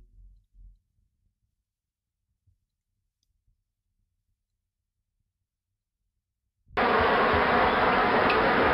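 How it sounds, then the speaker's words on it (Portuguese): A bee swarm from a sound effects pack, heard as a dense, loud buzzing drone that starts abruptly after several seconds of near silence and holds steady to the end. "Um enxame de abelha,"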